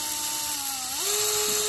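A small DeWalt cordless drill with gyroscope speed control runs alone as a thin, steady motor whine that dips slightly, then climbs to a higher pitch partway through.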